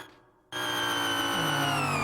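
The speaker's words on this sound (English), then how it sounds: "you can sort of hear that kind of metallic scraping, which is, you know, the straight cut gears in the Batmobile Tumbler" Straight-cut gears from a Batmobile Tumbler engine sound, used in an American Truck Simulator truck mod, make a metallic scraping whine. It cuts in suddenly after half a second of near silence, then holds loud and steady with a layered, harmonic edge.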